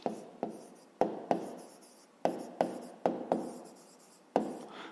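Pen writing on paper while working a fifth-grade maths exercise: close, quiet scratching strokes, each starting with a sharp tap and fading, in irregular bursts, no talking.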